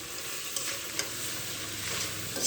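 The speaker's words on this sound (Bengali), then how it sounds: "মশলাটা দেওয়ার পরে আমি ভালোভাবে কষিয়ে নেব" Spice masala for a crab curry fries in a pan with a soft, constant sizzle, broken by a couple of brief scraping strokes as it is stirred, fairly quiet and close.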